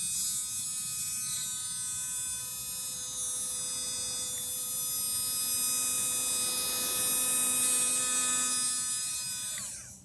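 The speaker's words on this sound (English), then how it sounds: "Motor's still running." An electric motor in Ed Leedskalnin's workshop runs with a steady, buzzy electrical hum that holds constant for several seconds before cutting off near the end.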